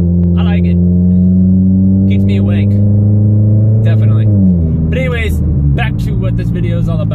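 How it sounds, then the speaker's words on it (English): Inside a car fitted with a Walker EPA Ultra manifold converter, a loud, steady low drone fills the cabin while driving, its pitch dipping partway through, with a few brief voice sounds over it. "sorry if the car is a little bit loud. It is rather a little bit droney in here,"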